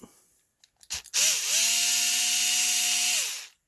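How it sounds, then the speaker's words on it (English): Power screwdriver whirring steadily for about two seconds after a few clicks and handling noises, backing screws out of the plastic chassis of a damaged Redcat Racing Kaiju RC truck; close and fairly loud, with no talk. "I'm going to pop these screws right here."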